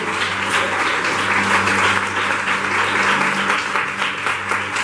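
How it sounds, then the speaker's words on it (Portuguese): A congregation applauding in a Portuguese-language church service, a dense, continuous roar of many hands clapping together, loud and sustained throughout with a low hum beneath. "Aplauda o Senhor"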